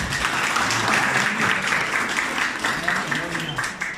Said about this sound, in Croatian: Molim vas da aplauzom pozdravite naše goste